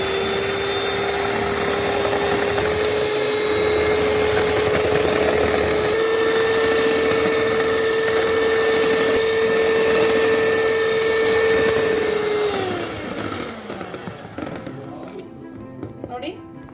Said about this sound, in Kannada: ಈಗ ಇದನ್ನ ಬ್ಲೆಂಡ್ ಮಾಡ್ಕೊಳ್ಳೋಣ.